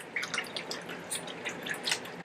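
Worcestershire sauce poured into a batch of baked beans, a faint, wet sequence of small drips and splashes close by, with no talking.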